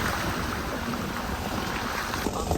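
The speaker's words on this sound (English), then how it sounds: "Driving through a lake." Car driving through a shallow lake on the Albanian Riviera near Ksamil, a steady rush of water and wind noise filling the whole moment without voices.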